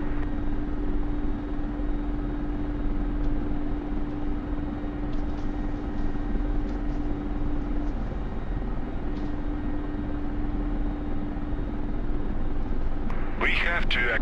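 A Mi-24 Hind helicopter engine in the DCS flight simulator, a steady droning whine and rotor hum sitting on the runway, with a constant tone throughout and a brief burst of noise near the end.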